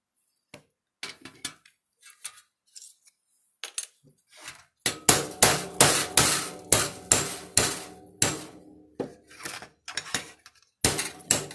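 Hammer blows strike a steel disc cutter to punch a disc out of sheet metal for a pinecone pendant: sharp, loud metallic whacks, a few sparse taps first, then a steady run of heavy repeated strikes with ringing decay.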